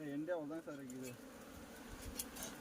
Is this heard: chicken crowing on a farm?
no